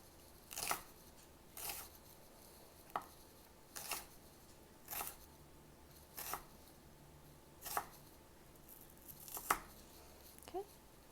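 Knife slicing cooked turkey meat into thin pieces, about eight soft crisp cuts at a steady rhythm, close and fairly quiet, with no talking.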